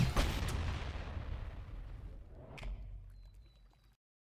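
A single loud rocket launcher blast in the video game ULTRAKILL booms up close, with a low rumbling tail and a second sharper crack partway through as it fades out.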